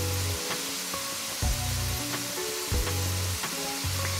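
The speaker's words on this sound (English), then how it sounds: "that's a medium high frying intensity." Potatoes for aloo curry sizzle and crackle steadily in hot oil over medium-high heat, a constant close frying hiss with occasional soft knocks and clatters.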